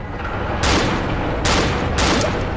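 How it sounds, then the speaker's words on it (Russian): Bursts of gunfire from many enemies shooting at once in the horror game Cry of Fear, three loud volleys over a rumbling background, with no talking. "Их там что-то много, и все стреляют"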